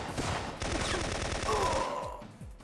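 Rapid bursts of gunfire in the video game Syphon Filter, a loud rattling automatic volley with dense repeated shots that trails off near the end.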